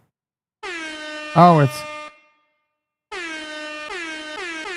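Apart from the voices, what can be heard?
air horn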